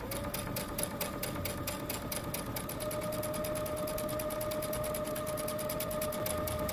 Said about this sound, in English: I'm going to backstitch for the first row of stitches